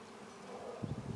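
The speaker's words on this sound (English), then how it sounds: "It's a lot of bees." Many bees buzz in a thick continuous drone during a hive inspection, growing louder and more agitated near the end, close up with no talking.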